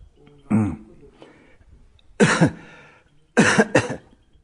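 Three separate bursts of coughing, the later two harsh and doubled, set apart by quiet pauses in an otherwise still indoor space.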